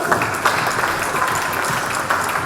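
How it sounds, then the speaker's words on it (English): Audience applause in a hall during a talk at a school for the blind, a steady dense wash of clapping that holds at an even level for the whole stretch. "Put your hands together for yourself."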